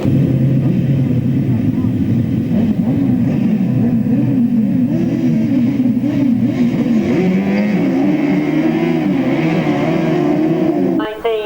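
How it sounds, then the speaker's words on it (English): Grasstrack sidecar racing outfits roar past in a loud, continuous engine drone that rises and falls in pitch as the machines race, with a sharp change right at the end. "what terrific sidecar racing"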